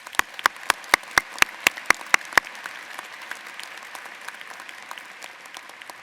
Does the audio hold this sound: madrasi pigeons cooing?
no